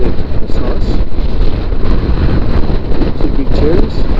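Heavy wind buffeting a helmet microphone on a motorcycle ride through Tasmania, a loud continuous roar with engine rumble beneath, and a rider speaks over it.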